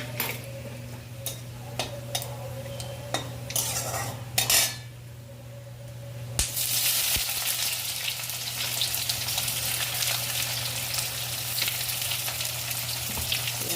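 Chopped onion hits a hot pan for chicken curry, with utensils clinking against the metal at first, then a steady, loud, broadband sizzle of frying that carries on to the end, with no one talking.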